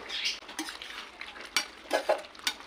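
Spoon scraping and stirring a dry prawn and egg curry in a pan, with a soft sizzle underneath and intermittent sharper metallic clinks against the pan.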